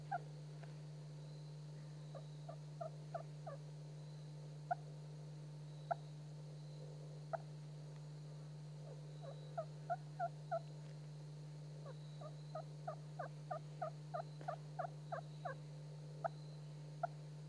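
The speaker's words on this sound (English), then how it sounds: "the clucks and purrs and tree calls" Soft clucks and purrs from a turkey call worked with a striker, close, quick clusters of short clicking notes in uneven bursts over a steady low hum.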